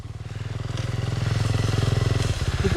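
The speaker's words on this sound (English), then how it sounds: "Those bikes you heard were down that way." Motorcycles ride through the Chattahoochee forest, their steady engine drone holding a low pulsing rumble that slowly grows louder over nearly three seconds, with no other sounds on top.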